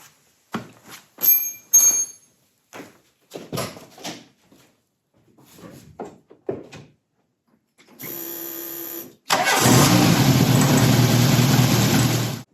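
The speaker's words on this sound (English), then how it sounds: "Now we get to start the car and hope that it works better than it did before" A Volkswagen Mk1, Mk2 or Mk3 engine cranks with a steady whir after a starter motor replacement, then catches and roars into a loud, constant idle, following scattered clicks and handling noises.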